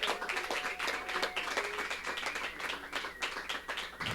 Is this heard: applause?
yes